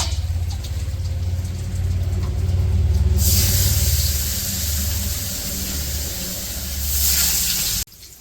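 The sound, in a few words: fish frying in oil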